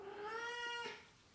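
A cat gives one drawn-out meow, close and fairly soft, with no talking.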